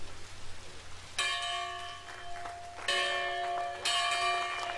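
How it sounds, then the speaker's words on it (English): A church bell from one of the oldest Black churches in America is rung to mark a museum opening, three resonant strikes with long ringing decay, with a soft rain-like hiss behind them. "rang a bell from one of the oldest black churches in America, marking the opening of the museum"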